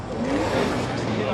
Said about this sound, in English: We heard some two-step going on.